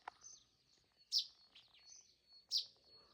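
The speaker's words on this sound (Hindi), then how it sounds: "पंछियों की आवाज़ है छोटी छोटी" Small birds chirp during a mountain trip in Uttarakhand: two sharp, bright chirps stand out over a quiet background, with a few fainter calls between them.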